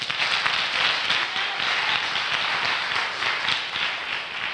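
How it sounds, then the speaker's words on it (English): Steady, dense clapping from a church congregation during a sermon, filling the room continuously at a loud, even level. "Oh, somebody clap for Jesus."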